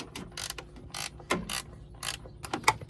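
A SUZUME long flex head ratchet wrench clicks in quick bursts while tightening, its pawl rattling in several separate close, crisp runs with short pauses between strokes.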